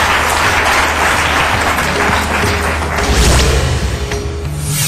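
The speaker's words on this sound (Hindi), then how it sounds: "जोरदार तालियों से स्वागत" A loud, dense crowd applause fills the whole span, steady clapping from many hands without any talking.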